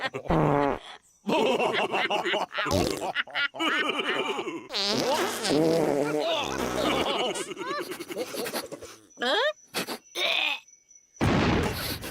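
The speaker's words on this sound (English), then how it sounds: "Dinosaurs did fart themselves into extinction." Comedic fart sound effects for farting dinosaurs, a run of long, rasping, groaning blasts with short pauses between, loud and close, mixed with voice-like grunts and chuckles.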